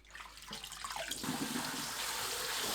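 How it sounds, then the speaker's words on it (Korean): Blanched hijiki seaweed is rinsed in cold water, and a tap runs into a kitchen sink with a steady rushing splash that starts softly and grows fuller, with no voices. "전체적으로 초록색이 되면 바로 체에 거르고 찬물에 헹굽니다."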